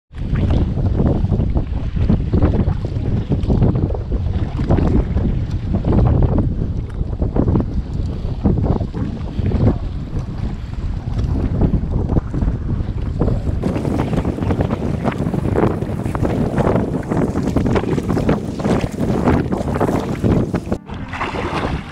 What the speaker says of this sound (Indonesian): Angin kuat tapi tak hujan tak apa lah.